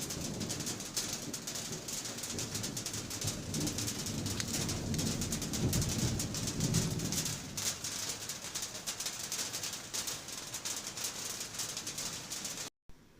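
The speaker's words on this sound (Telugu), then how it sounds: "అలా వర్షం చినుకుల రేకుల పైన చేసే సవ్వడి" Steady rain drums on metal roof sheets, a dense hiss throughout, with a low rumble of thunder swelling in the middle before fading.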